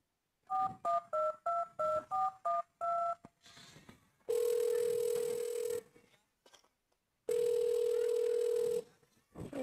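Telephone keypad tones beep in a quick run of about eight short presses, followed by two long, steady ringback tones with silence between them, clear and close.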